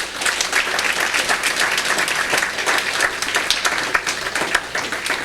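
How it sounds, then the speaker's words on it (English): Audience at the opening of a natural farming symposium gives a round of applause for farmers' union leaders, a dense, continuous wash of clapping at even loudness throughout, with no talk over it. "Can you give them a round of applause?"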